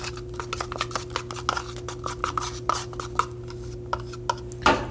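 Dental investment powder is mixed quickly with water, a rapid scraping, rubbing stir with irregular scratchy strokes, close and fairly loud over a steady hum.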